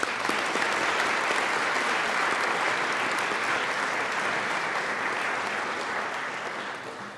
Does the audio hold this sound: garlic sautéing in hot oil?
no